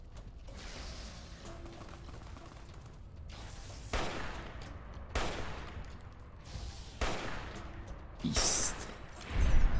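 Gunfire in Fallout New Vegas rings out as a handful of spaced, sharp shots with echoing tails amid rumbling background, while a voice briefly speaks over the scene.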